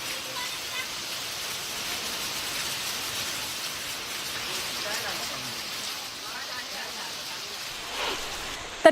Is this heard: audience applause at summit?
no